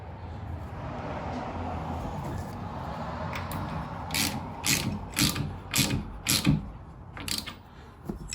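A ratchet tightens the big central nut on a car's quick-release steering, clicking in quick close bursts of several pawl clicks each, with pauses between strokes and a quiet background beforehand.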